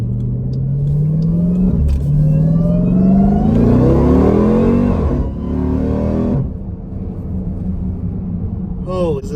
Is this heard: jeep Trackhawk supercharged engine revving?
yes